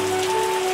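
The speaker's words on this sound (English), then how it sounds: "We're seeing some more rain happening." Steady rain patters across a surface in the farming and winemaking game Terroir, a continuous soft hiss with a faint sustained tone running beneath it, moderately loud and without voices.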